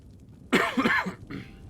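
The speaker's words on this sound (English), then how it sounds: "trying not to cough in your face" A single person's cough burst, loud and close, with a rough throaty onset followed by a couple of quick hacking pulses and a softer trailing throat-clearing sound, no speech.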